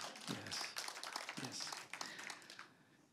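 Audience applause in a hall during a French-language motivational talk, bursts of clapping sounding fairly near and dense over about three seconds before fading toward the end.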